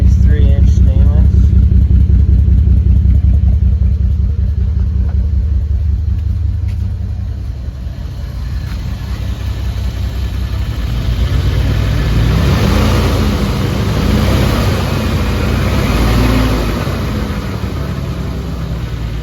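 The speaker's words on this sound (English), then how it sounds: "I could definitely hear a little exhaust leak." Toyota Supra engine running with a small exhaust leak through a 3-inch stainless exhaust, a loud low rumble that idles, then rises in a revving swell, with people talking over it.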